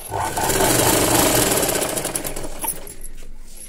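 A sewing machine stitches piping thread into folded cloth in a fast, steady mechanical whir that slows and stops after about three seconds.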